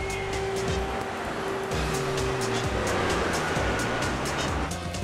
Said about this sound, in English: I'm going to run it through the wash.